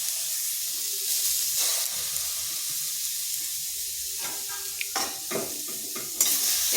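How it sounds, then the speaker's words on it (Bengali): Grated coconut is lightly fried in a wok for dudh puli pitha, giving a continuous dry sizzle broken by repeated scraping stirs of a spatula against the pan. "এরপর নারকেলটা হালকা ভেজে নিচ্ছি যাতে তার কাঁচা গন্ধটা চলে যায়।"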